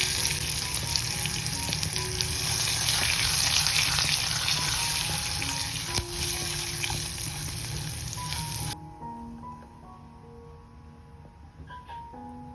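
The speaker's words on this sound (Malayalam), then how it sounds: "കൂടെ തന്നെ 2 വറ്റൽമുളകും കുറച്ച് കറിവേപ്പിലയും കൂടെ ചേർത്ത് കൊടുക്കുന്നുണ്ട്. ഇനി എല്ലാം കൂടെ നന്നായി ഒന്ന് മൂപ്പിച്ചെടുക്കാം." Dried red chilies and curry leaves frying in hot oil for a tempering, a loud continuous sizzle and crackle that drops abruptly to a faint simmer near the end.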